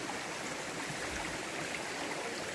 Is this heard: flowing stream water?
yes